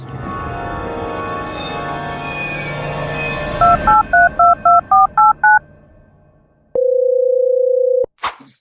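A run of eight quick keypad dialing beeps, then a single long steady tone, and a brief click at the end.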